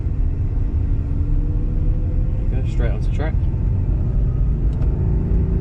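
An Aston Martin V8 Vantage's engine drones steadily and loudly from inside the car as it pulls onto a race track, its rumble continuous beneath someone talking briefly.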